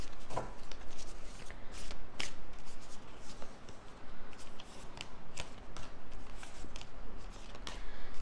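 Angel Wisdom oracle cards are shuffled by hand in a continuous, close-up rustle broken by sharp riffle snaps and card slaps, with no talking.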